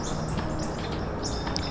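Birds singing at dawn in the eastern Pennsylvania woods, several short chirps and whistled calls scattered over a steady background hush, fairly faint and distant.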